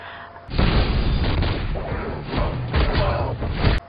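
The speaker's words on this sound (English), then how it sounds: "Creating realistic and exaggerated explosions are essential." A loud, booming explosion blast erupts after a brief quiet start, sustained rumbling with bursts and crackles continuing for several seconds.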